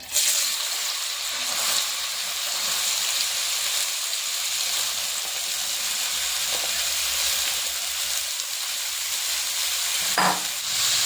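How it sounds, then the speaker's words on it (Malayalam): Chopped carrots for carrot pickle are sautéed in a pan, giving a steady, close sizzle and hiss of frying that runs evenly throughout, with a faint stirring knock near the end. "ഇനി ഇതിലേക്ക് നമുക്ക് കട്ട് ചെയ്ത് വെച്ചിരിക്കുന്ന ക്യാരറ്റ് ഇട്ട് കൊടുത്ത് നന്നായിട്ടൊന്ന് വഴറ്റിയെടുക്കാം"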